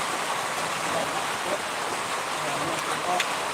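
Steady rain falls outdoors during a live cooking session of fried grasshoppers, a dense, even hiss without pauses that fills the whole stretch.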